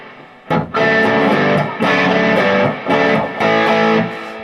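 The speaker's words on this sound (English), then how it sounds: "The third patch I just have sent up with sort of a simple crunch kind of tone" Electric guitar played with a simple AC/DC-style crunch tone through a Boss Katana amp, strummed chords ringing loud and close in several bursts with brief gaps between them, a touch of reverb, no voices.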